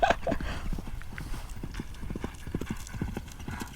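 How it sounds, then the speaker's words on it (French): A racehorse gallops on a training track in a rapid rhythmic clip-clop of hooves, close and fairly loud, with a brief snort or whinny near the start. "C'est bizarre comme il galope là."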